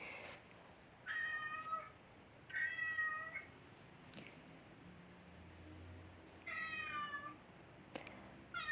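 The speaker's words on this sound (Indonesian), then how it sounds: "suara mencericipan kucing ini mirip dengan suara burung ya" A domestic cat gives four short, bright chirping calls, bird-like and trilling, spaced a second or two apart against faint room quiet.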